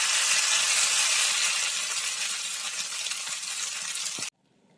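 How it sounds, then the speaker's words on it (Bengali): Noodle pakoras deep-frying in hot oil, a loud, close, steady hiss and sizzle that fades slightly before cutting off abruptly near the end, with no speech. "এরকম করে সবগুলো ভেজে নেব।"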